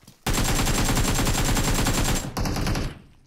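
Rapid automatic gunfire in a battle royale mobile game on the Livik map: a loud, continuous burst of shots for about two seconds, then a short pause and a briefer second burst.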